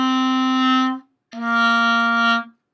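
A clarinet plays two clean, sustained notes separated by a short breath gap, solo and moderately loud.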